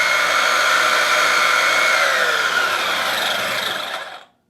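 ARRMA Big Rock Crew Cab RC truck's electric motor held at full throttle, a loud steady high-pitched whine lasting about four seconds before cutting off abruptly.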